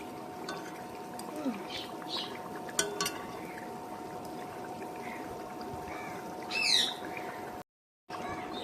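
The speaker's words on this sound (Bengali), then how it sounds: "এভাবে হচ্ছে ভেজে নিতে হবে একটা একটা করে" Palm fritters (tal bora) frying in hot oil, a steady close bubbling sizzle running throughout, with a short dropout near the end.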